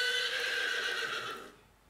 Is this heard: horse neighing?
yes